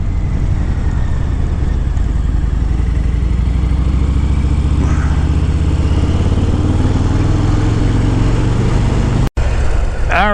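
A Harley-Davidson motorcycle rides at the Sturgis Rally 2023, its engine a loud, steady low rumble throughout, with a brief dropout near the end and a voice speaking just after.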